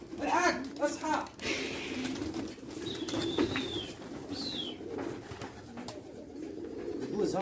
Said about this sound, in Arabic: شباب قاعد بطير بالحمام الساعة 6:05